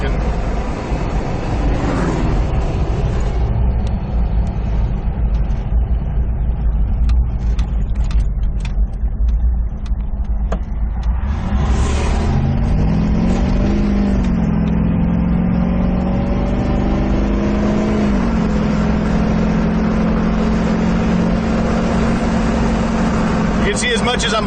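A 350 Chevy V8 swapped into an 89 Toyota 4Runner drones steadily as it accelerates, the engine note rising and holding under a continuous road rumble, with a person talking over it throughout.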